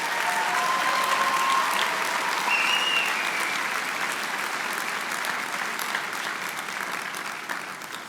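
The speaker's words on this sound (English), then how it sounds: "Let's give our faculty and staff a big round of applause" Sustained applause from a large convocation audience honouring faculty and staff at a college graduation ceremony, a steady roar of many hands clapping that fills the hall for several seconds and tapers slightly at the end.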